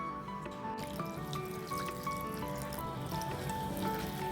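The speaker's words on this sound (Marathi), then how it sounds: "आता मी हे स्वच्छ पाण्यातून धुवून घेते" Moringa leaves are washed in clean water, producing a continuous trickle and splash of running liquid with small drips and clinks, close and moderately quiet throughout.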